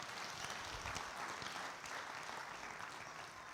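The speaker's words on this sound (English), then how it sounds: "Someone needed to give the Lord a good clap." A church congregation applauding together, a dense continuous wash of clapping at a moderate distance that holds steady throughout without any voices on top.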